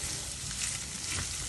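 Vegetables and potatoes frying in a pan for a quick lazy manti dish, a steady close sizzle with soft crackle running evenly throughout, no voices.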